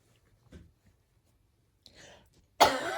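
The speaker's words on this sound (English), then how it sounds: "Sorry, I can't stop coughing from this." Someone coughs in a quiet room: two faint throat-clearing coughs and then one sharp, loud cough at the end, close to the listener.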